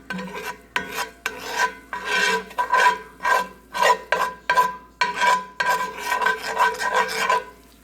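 Whisk or spoon rasping in rhythmic strokes against a pan while a roux is stirred for a steak dinner, about a dozen scraping sweeps, close and loud with no talking.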